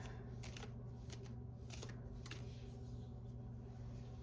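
Light Seers Tarot cards riffled and shuffled in several quick bursts over a constant low background hum, faint and close, no one speaking.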